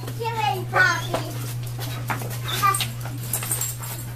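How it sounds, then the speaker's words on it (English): Puppies whimpering and yipping in thin, high whines, a few short cries rising over children talking and shouting nearby. "I got puppies."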